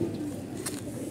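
A red-bodied Jiragola Army pigeon gives a low, soft coo, close and steady, with a faint brighter chirp partway through.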